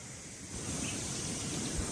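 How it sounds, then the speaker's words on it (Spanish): Steady rushing water roars continuously, a broad dense wash of noise like a waterfall heard nearby, with no other sounds. "La cascada."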